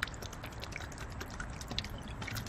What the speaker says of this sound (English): Just throw some water.